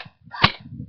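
An airsoft gun fires a single sharp, close pop into body armor from point blank, with faint rustling just before and after.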